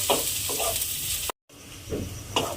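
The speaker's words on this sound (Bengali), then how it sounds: "নাড়াচাড়া করে নিয়ে পেঁয়াজটাকে একটু লাল করে ভেজে নেব।" Onion fries in a pan while being stirred, a close, moderate sizzle broken by scraping strokes and a brief silent cut midway.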